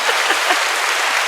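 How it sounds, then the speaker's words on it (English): A small group claps in a steady burst of applause during a podcast episode about a teacher and support employee of the year, close and fairly loud, with a voice briefly audible underneath. "Yeah, do the claps."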